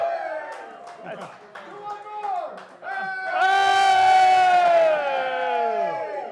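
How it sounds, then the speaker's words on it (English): A crowd at an anniversary celebration chants a rhythmic call-and-response hip hip hurrah, with short shouted calls answered by a loud, sustained group roar and applause. "Hip, hip, hurrah! Hip, hip, hurrah!"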